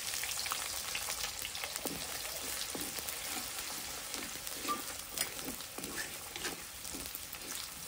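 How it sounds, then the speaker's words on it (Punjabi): Finely chopped large onion fries in a pan with dried red chillies for a bottle gourd curry, giving a soft, even, crackling sizzle throughout, fairly quiet and without talk. "ਪਿਆਜ਼ ਨੂੰ ਅਸੀਂ ਭੁੰਨ ਲੈਣਾ। ਪਿਆਜ਼ ਨੂੰ ਭੁੰਨਦੇ ਹੋਏ 3-4 ਮਿੰਟ ਹੋ ਗਏ ਆ।"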